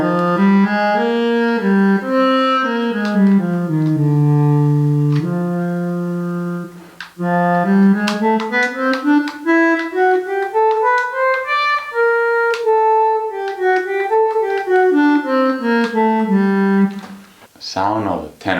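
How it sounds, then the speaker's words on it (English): Alto saxophone voice from a Travel Sax 2 digital wind instrument, playing a clean, reedy melody of sustained notes that glide and step up and down, with a pause midway and a brief burst of noise at the end. "This is the sound of an alto saxophone."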